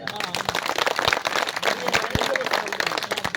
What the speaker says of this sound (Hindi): इजाजत के मायने होते हैं कि आप जोरदार ताली बजाएं।